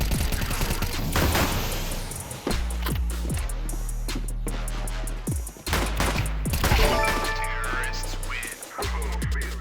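Dual Berettas pistols in Counter-Strike 2 firing rapidly in loud, close bursts of sharp cracks, several clustered volleys separated by short gaps, with mechanical clicks between shots.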